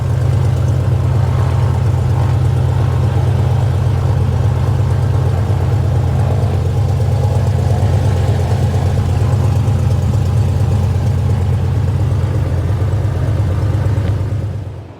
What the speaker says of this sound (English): I'll catch up with you when the engine's running